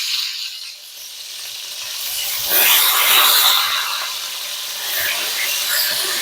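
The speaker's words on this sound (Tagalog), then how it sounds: "Tumatalsik lang talaga." Hot oil sizzles and spatters steadily as milkfish (bangus) fries in a pan for chilli garlic bangus, a broad close hiss swelling louder midway with scattered pops, no talking.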